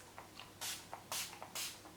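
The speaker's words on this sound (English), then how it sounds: "I want it to last all night, I'm going to go in with the Urban Decay All Nighter Setting Spray" Urban Decay All Nighter setting spray misted onto a face in three quick, soft bursts of fine pump-spray hiss, close and quiet, with faint handling noises between them and no talking.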